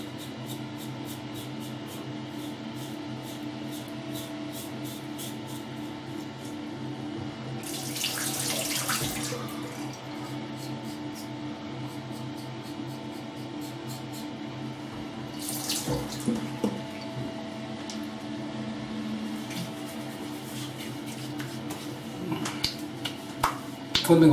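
Tap water running steadily into a sink to wet a shaving brush, a constant close hiss of flow over a background hum, with brief louder splashing bursts and small clicks toward the end, no talking.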